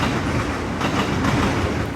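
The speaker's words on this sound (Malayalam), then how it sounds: "ഇതേ അടുത്ത ട്രെയിൻ വരുന്നുണ്ട്." A train runs along tracks beside an apartment in Japan, producing a loud continuous rumble and rattle of wheels, close and steady for the whole stretch, with no voices.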